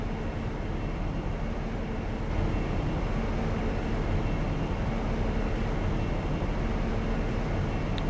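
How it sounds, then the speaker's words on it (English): A Class 166 train pulls in on the Marsdonshire route in Train Simulator Classic, a steady, even rumble of rolling stock that stays constant throughout with no speech. "There's another train coming in down here, look."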